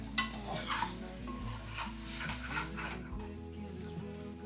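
Chicken curry fries in a pan while a utensil stirs it, giving soft scraping and clinking of metal over a low sizzle, close and quiet with no talk.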